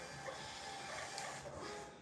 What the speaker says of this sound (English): so I'm printing this slip